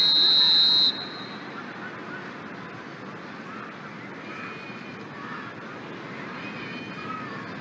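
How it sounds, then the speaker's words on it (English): A referee's whistle blows for half-time in an eFootball 2022 match between Liverpool and Tottenham Hotspur, one shrill sustained blast lasting nearly a second before fading into the steady murmur of a stadium crowd. "There's the whistle for half-time"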